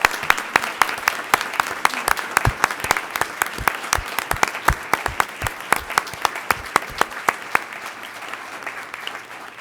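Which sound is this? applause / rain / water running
applause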